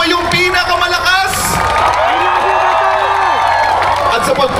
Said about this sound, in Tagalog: Muli bigyan natin ng malakas na palakpak.